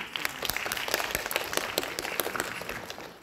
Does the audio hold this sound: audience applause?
yes